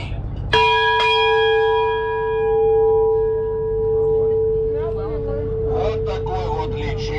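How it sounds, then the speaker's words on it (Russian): The ship's bell aboard the cruiser Mikhail Kutuzov is struck twice in quick succession, ringing loud and close with a long, clear, melodic decay, before people start talking over the fading tone. "Вот такой вот лечебный, мелодичный звон колокола крейсер Михаил Кутузов"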